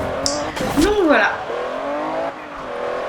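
A car drifts in Forza Horizon on Xbox 360, its engine revving while the tyres squeal in a rising and falling screech over about a second, followed by a steady motor hum.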